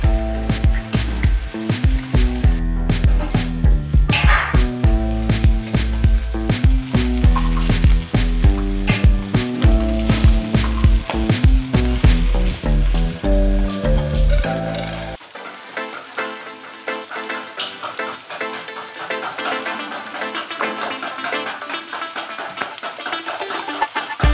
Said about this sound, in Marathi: मध्ये दुसरे मासे फ्राय करायला घेणार आहे